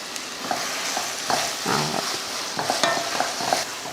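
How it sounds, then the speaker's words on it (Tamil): Tomato masala sizzles in a pan while a spoon stirs it, giving soft, steady frying crackle broken by short scraping strokes close by. "நல்லா வதங்கட்டும் தக்காளி மசாலா எல்லாம் போட்டு நல்லா பேஸ்ட் போல் வதங்கிருச்சு"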